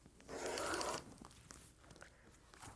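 A rotary blade cuts fabric along a quilting ruler at the 60 degree mark, a quiet close rasping slice lasting about a second, followed by faint handling noises.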